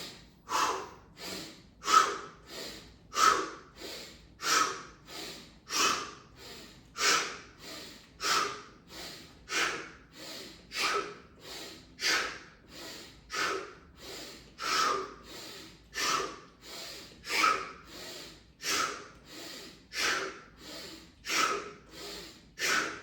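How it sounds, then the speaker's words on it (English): Deep pranayama breathing repeats in a steady, rhythmic cycle of forceful inhales and exhales through the nose, close and clear for the whole stretch with no talking. "Take a deep inhale, deep exhale."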